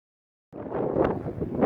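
Strong wind buffeting a phone microphone on a muddy, snowy hilltop, a sudden rough roar that starts after a half-second of silence and keeps gusting, close and loud.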